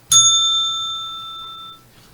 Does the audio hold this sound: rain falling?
no